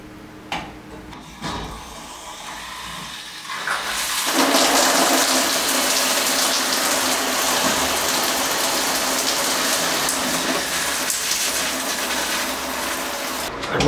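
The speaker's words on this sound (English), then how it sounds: "Gonna spray out a little bit of air first because the hot water line has been drained." A tap on a drained hot water line spits air and water: a quieter stretch, then a loud, steady rushing spray from about four seconds on, with no talking.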